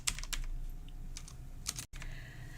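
Fingers tapping out a short search entry on a computer keyboard, a quick burst of close, crisp key clicks over steady room hum with a brief cutout near the end.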